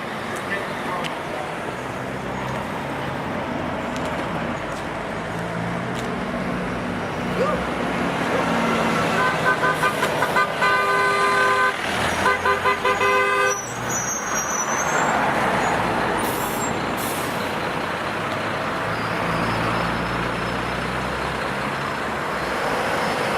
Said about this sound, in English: Look at all the traffic.